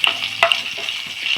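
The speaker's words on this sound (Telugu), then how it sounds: "ముందుగా పచ్చిమిర్చి, కరివేపాకు వేయించుకుంటున్నానండి. అలాగే జీలకర్ర కూడా వేసుకుంటున్నాను." Green chillies, curry leaves and cumin fry in hot oil with a bright, close sizzle, broken by a few quick spoon scrapes and taps.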